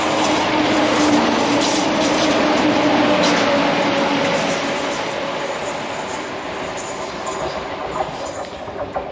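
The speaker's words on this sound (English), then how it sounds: "Oh, there's a train coming." Train passing on a railway line near Queensferry by the Forth Road Bridge, a steady broad rumble with faint clickety-clack that holds loud for several seconds, then slowly eases as it moves away.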